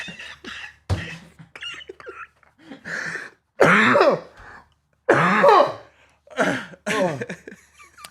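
Repeated harsh coughs and throat clearing come in uneven bursts separated by short pauses, close and fairly loud.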